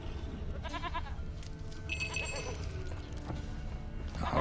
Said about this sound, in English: Here, goat. Here, princess.